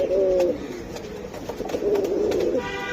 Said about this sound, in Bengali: এই বেজি কবুতর মাশাআল্লাহ